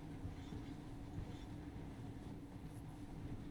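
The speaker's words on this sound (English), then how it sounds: "We got ourselves a monorail." A monorail in the video game Metro Last Light Redux rumbles steadily with a low, continuous rolling drone and faint clatter, holding an even loudness throughout with no voices.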